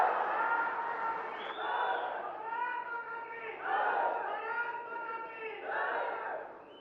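A huge crowd gathered in Doda cheers and shouts to welcome a government minister, with loud, sustained voices rising and falling in waves across several seconds.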